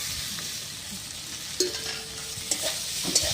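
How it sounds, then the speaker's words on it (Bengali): Fried okra stirred into spiced masala in a pan: continuous soft sizzling with a few sharper spoon-against-pan scrapes and clicks spaced through the stir. "এবার আমি ভেজে রাখা ভেন্ডিগুলো দিয়ে দেবো"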